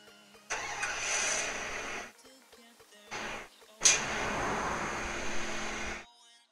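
A car engine in the Free Fire video game cranks and starts, then runs in steady, fairly loud stretches broken by short gaps, ending in a sustained roar.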